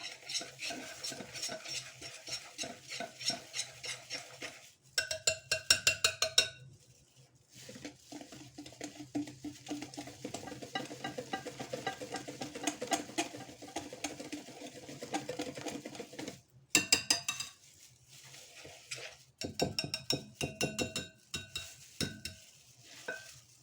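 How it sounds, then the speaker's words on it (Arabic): Oat flour stirred gradually into coffee biscuit dough in a bowl, with long stretches of steady scraping and mixing broken by short, brisker bursts of clinking utensil strokes, close and alone. "هضيف في الاتنين واقلب المكونات بتاعتي كويس جدا"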